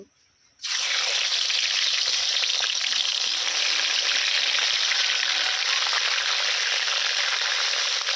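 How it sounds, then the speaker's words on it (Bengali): Fish heads drop into hot oil in a wok and break into a loud, continuous frying sizzle after a brief quiet moment, holding steady and close throughout. "প্রথমে আমি মাছের মাথাগুলো ভেজে নেব।"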